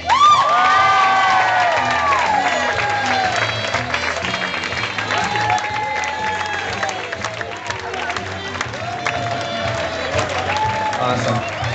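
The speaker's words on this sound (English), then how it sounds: "a great big round of applause for Maid of Honor and Sister of the Bride, Laura Norquist" Wedding guests applauding and cheering for the maid of honor, loud whoops and shouts over steady clapping from a lively crowd, strongest at the start and sustained throughout.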